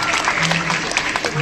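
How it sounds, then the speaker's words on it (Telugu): An audience claps for a mentor at a business plan presentation event in Guntur, a short burst of dense, close applause that fills the moment, with a voice briefly audible over it. "Mentor K Umashankar మావుర్కి big claps ధన్యవాదాలు తెలుపుకుందాం."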